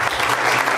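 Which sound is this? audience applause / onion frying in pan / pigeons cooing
audience applause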